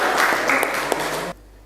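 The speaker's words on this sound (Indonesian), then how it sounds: "Tepuk tangan juga." Classroom applause from a group of students, a dense burst of clapping that runs steadily for just over a second and then cuts off abruptly.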